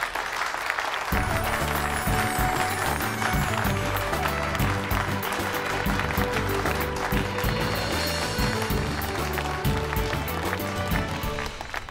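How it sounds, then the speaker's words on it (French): Loud, sustained applause and clapping from a party crowd celebrating a wedding couple, starting abruptly and continuing dense and steady under festive music. "je vous demanderai d'applaudir bien fort le couple que nous célébrons aujourd'hui"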